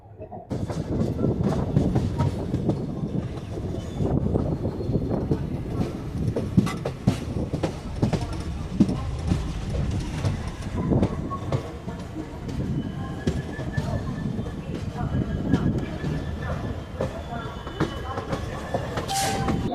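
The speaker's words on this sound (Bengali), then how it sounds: "আমাদের ট্রেন এসে পৌঁছালো নিউ জলপাইগুড়ি রেলওয়ে স্টেশন" The Teesta Torsha Express rolls along the rails with a continuous loud rumble and rhythmic clatter of wheels over joints, heard from inside the train, with faint birds and voices in the background.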